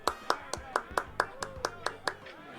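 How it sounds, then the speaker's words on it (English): A round of applause at an award show: ten or so crisp, evenly spaced claps, close and distinct, with no talk over them. "A round of applause."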